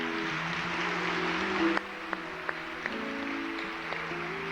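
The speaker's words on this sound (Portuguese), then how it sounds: "Aplauda com mais força." A church congregation applauds during a Catholic service, a steady wash of clapping held at moderate distance over a faint sustained tone, with a few sharper knocks near the end.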